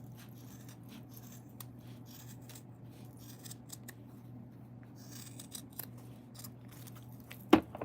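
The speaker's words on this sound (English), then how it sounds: "I'm going to pull it up, and I'm going to cut the top off" Scissors snip through long crochet yarn strands used to tie a piece together, mostly soft rubbing and handling at first, then one sharp close cut near the end.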